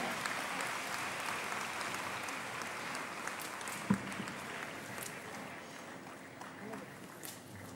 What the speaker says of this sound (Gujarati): ખૂબ બધી તાળીઓ, ખૂબ બધી તાળીઓ